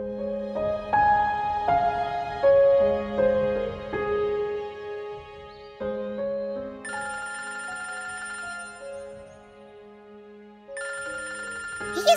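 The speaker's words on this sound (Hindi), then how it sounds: "किसका मोबाइल बज रहा है?" Mobile phone ringing with a steady melodic electronic ringtone that repeats its phrases for several seconds, loud and with no talking.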